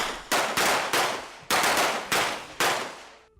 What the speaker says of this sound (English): I have a gun too! Bang!